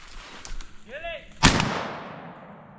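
A single sharp, loud gunshot while squirrel hunting in the woods with mountain curs. It rings out midway and decays in a long echo, and faint outdoor sounds and a brief vocal call come before it.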